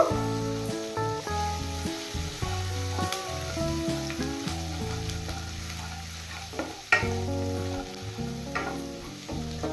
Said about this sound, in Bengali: এবার আদা আর রসুন 30 সেকেন্ড ভেজে নেব।